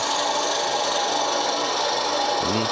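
Wood lathe drilling into a spinning wooden goblet blank with a self-ejecting bit, a loud continuous grinding, scraping whir close up with no pauses and a faint low tone rising at the end.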